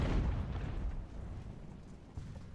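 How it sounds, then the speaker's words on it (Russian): Cannon fire at point-blank range in the Ultimate Admiral: Age of Sail naval battle game, heard as loud, dense low booms and rumble, with a fresh blast near the end. "Пушка работает в упор, отлично."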